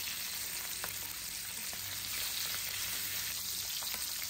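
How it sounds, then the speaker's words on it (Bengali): Small bacha fish fry in hot white oil, a continuous close sizzle with faint crackles and occasional light pops, steady and alone without voices. "তেল গরম হয়ে যাওয়ার পর একে একে মাছগুলো দিয়ে দিচ্ছি।"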